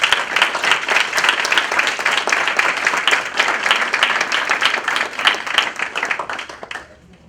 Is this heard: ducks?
no